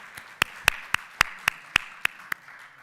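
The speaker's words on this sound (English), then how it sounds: "how about another round of applause for Mike?" Sharp, evenly spaced claps, about eight, fairly close and distinct, over a quiet, faintly busy background at a graduation ceremony, with no one speaking.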